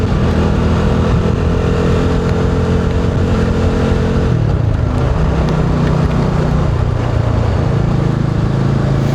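A motorcycle engine hums steadily while being ridden slowly through Asin Tunnel, loud and continuous with a slight shift in tone partway through, no voices over it.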